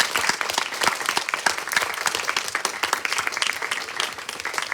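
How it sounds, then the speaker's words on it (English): A symposium audience claps steadily and fairly loudly throughout, dense applause with no voices on top. "let's give David another round of applause"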